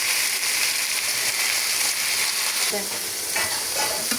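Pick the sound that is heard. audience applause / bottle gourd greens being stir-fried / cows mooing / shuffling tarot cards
bottle gourd greens being stir-fried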